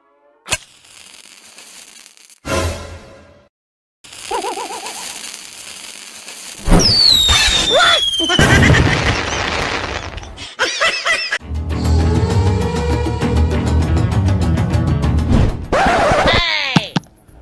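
Diwali firecrackers set off outdoors, several sharp bangs, whistling and hissing bursts, and a long crackling stretch of rapid pops, with squeals and laughter from people nearby.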